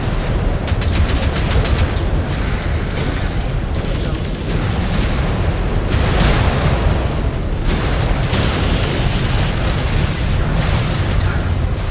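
Enemy mechs blow apart in MechWarrior 5: Clans, a loud, dense wall of booming blasts and rattling weapon fire that never lets up.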